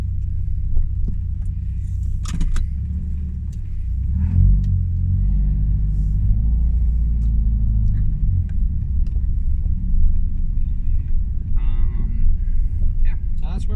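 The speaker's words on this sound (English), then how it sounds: "It is just basically a break in the muffler." Car engine with a break in the muffler, a low, heavy exhaust rumble that swells midway and carries on steadily beneath intermittent talking inside the cabin.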